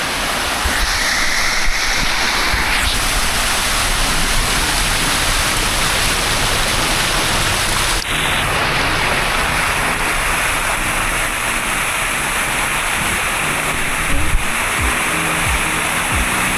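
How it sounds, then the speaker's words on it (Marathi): A roadside waterfall beside a highway in the Konkan region pours down in a loud, steady rushing roar, the water close by and continuous throughout. "जे पाणी आहे मागचं ते इथून खाली जातं आणि त्या साईडने परत बाहेर पडतं"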